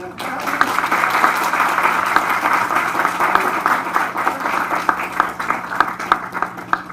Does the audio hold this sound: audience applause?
yes